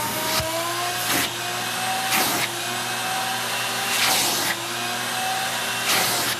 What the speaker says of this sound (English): we'll kick on the shop vac and we'll go ahead and suck it up as much as possible.